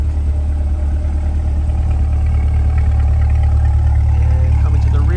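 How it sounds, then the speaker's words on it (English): A 2020 Corvette Stingray C8 2LT Z51 sits idling, its exhaust giving a steady, loud, deep rumble that holds throughout without any revving. "there's your exhaust note, just idling"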